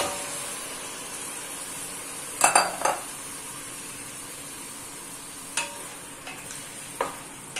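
Mutton pieces dropped into a hot pan for mutton kuzhambu, a soft continuous sizzle broken by a few sharp clanks of a spoon against the pan, no voices.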